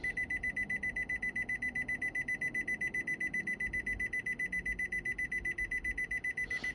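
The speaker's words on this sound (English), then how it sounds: "it's beeping because we're not actually in park" 2014 Nissan Pathfinder warning chime for not being in park: rapid, evenly pulsing high beeps repeating continuously for several seconds, clear and steady with no talk.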